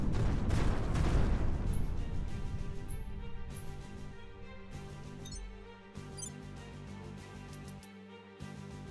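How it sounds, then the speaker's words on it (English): A Dead Star explosion in the space strategy game Terra Invicta, a loud low boom that swells at the start and then slowly fades into a rumbling tail broken by a few faint crackles. "Dead Star explosion."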